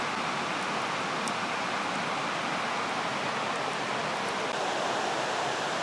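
Steady broadband roar of a waterfall at a wilderness campsite on a backcountry trail, a constant rushing wash of water heard close and alone without pause.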